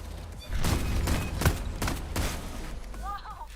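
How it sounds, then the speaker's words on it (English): Breaching charge detonating in the video game Payday 3, a loud sustained blast with rumbling bursts lasting a few seconds, heard alone without talk. "That was a bigger explosion than I expected."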